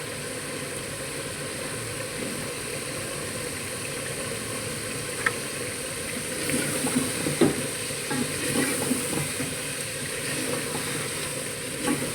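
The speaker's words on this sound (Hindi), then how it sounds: "अब हम इसे अच्छी तरह भून लेंगे।" Red chilli spice mix with salt fries in a pan for a mutton and pea curry, giving a steady, moderate sizzle. Faint scraping and stirring runs through it, with a few sharper clinks near the middle.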